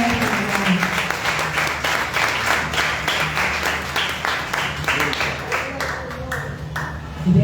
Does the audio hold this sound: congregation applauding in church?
yes